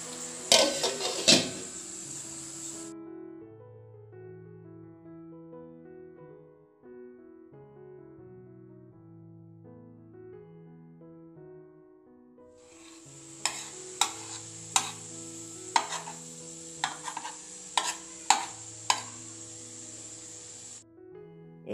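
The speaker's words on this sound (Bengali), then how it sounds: "স্বাদ মতো নুন দিয়ে ভালো করে নেড়েচেড়ে নিব।" Punka greens being stirred with salt in a frying pan, soft scraping and clinks from a utensil against the pan over a steady background of music, the clinks growing sharper and more frequent toward the end.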